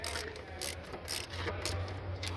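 A ratchet turns anti-clockwise to loosen a nut on a brake booster mounting stud, giving a string of close, quick clicking bursts over a steady low hum.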